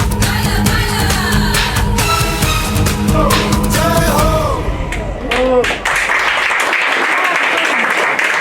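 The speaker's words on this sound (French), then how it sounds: "encore plus fort les applaudissements pour nos charmantes candidates" At a Miss and Mister pageant, the audience applauds the candidates. Music and singing fade out, then a loud burst of clapping and crowd noise rises, with voices heard in between.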